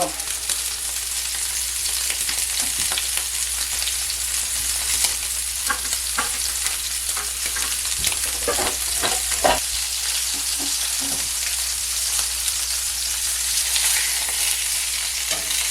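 Steak sears in a pan with a bit too much oil, giving a loud, continuous sizzle and crackle up close. Scattered scrapes and stirring clatter punctuate it, and nobody speaks.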